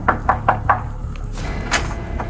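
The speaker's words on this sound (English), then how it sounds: "olas Hanning and his colleague Ellie Summers knocked on the door of 75-year-old Michael Clark's home" Four sharp raps strike the door of a house in quick succession, close and distinct, followed by quieter scuffing and handling sounds with no one speaking.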